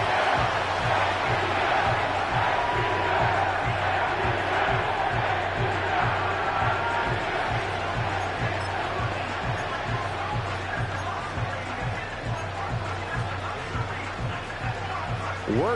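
Roaring football stadium crowd at fever pitch during a Saints game, a dense, continuous wall of cheering and shouting that stays loud and steady throughout, with a low rhythmic pulse underneath.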